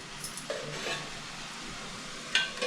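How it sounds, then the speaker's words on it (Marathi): Chicken masala gravy being stirred in a pot, soft scraping and a few light clinks of a utensil against metal over a faint low background, close and intermittent. "आता हे ढवळून घेते पहिला."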